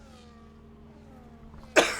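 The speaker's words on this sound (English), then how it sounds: "I'm trying to learn how to mute before I cough" A single sharp cough bursts out close and loud at the very end, following a quiet stretch with a faint tonal hum in the background.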